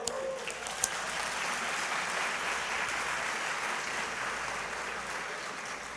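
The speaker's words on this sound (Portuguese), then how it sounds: "Dá uma salva de palmas para ela." A church congregation applauds a pastor's wife on her birthday, sustained even clapping filling the room for several seconds.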